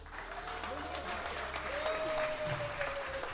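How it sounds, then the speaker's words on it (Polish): Audience applauding at a Warsaw stand-up comedy show as a comedian is introduced, steady clapping throughout with a sustained tone and some voices mixed in. "Wielkie, wielkie brawa."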